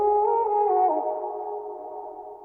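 A sustained vocal tone drenched in reverb and a shimmering, metallic crystallizer effect, slowly fading out in a long wash.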